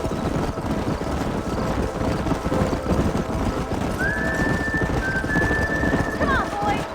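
Horses gallop in a dense, steady rumble of hooves while riders drive a herd up a narrowing canyon in the Red Dead Redemption Western video game; a thin whistle-like tone rises briefly partway through.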